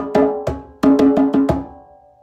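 A Ghanaian drum call signals the start of a pattern: six sharp, ringing drum strokes in an uneven rhythm, close and loud, each decaying quickly, with the last stroke fading out alone.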